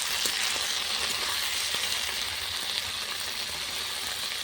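Ginger, garlic and tomato with salt frying in a pan over a clay stove produce a steady, close sizzle with occasional stirring clicks, holding even and unbroken with no talking.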